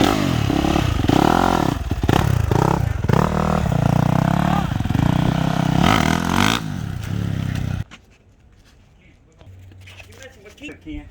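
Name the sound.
race motorcycle running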